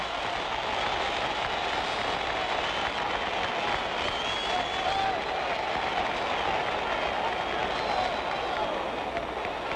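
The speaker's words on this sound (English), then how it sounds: "Crowd is starting to applaud." A boxing arena crowd applauds and roars steadily throughout, a dense continuous wash of clapping and cheering late in a bout, with no break in the noise.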